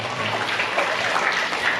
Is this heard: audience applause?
yes